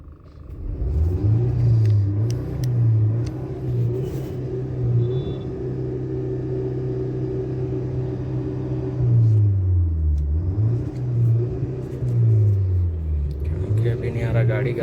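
Car engine idling with a misfire in cylinders 1 and 4, a steady low rumble with an uneven, wavering pulse and occasional revs, heard close up while someone talks over it.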